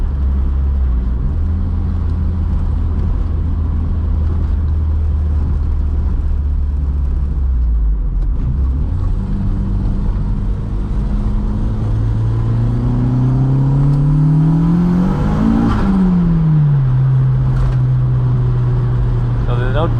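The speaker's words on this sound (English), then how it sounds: "So I know the tires are cold, but I'll do like second gear pulls." Car engine droning and rising in pitch as it accelerates in second gear at a track on cold tires, a continuous loud rumble with a climbing then falling engine tone.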